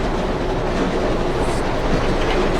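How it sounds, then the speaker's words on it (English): A train rumbling along at speed in the movie Unbreakable (2000), a loud, dense, continuous roar of wheels and carriage noise with faint clatter, steady throughout and no voices. "Don't it feel like the train speeding up?"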